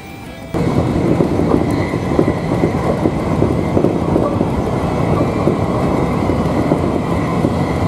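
A JR Kosei Line train in Japan rolling fast, with a steady loud rumble and rapid rattling from the wheels that runs unbroken after a short quieter start.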